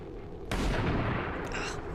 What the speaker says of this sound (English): Sniper missed.